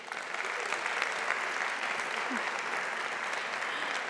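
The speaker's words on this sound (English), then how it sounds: "Can I get a big round of applause for Nikki" Steady, dense audience applause fills a pitch competition hall at All Energy Day 2023, sustained and even throughout.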